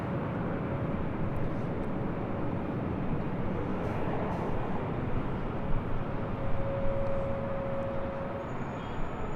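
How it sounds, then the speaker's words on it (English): A British Airways Airbus A380 at LAX at night sends up a steady, broad jet roar that holds at an even level throughout, heard from a distance with a faint tonal whine on top. "That is flight 269, Speedbird A380 Super."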